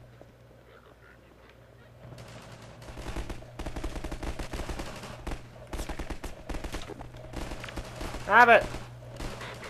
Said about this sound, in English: I got my shotgun out now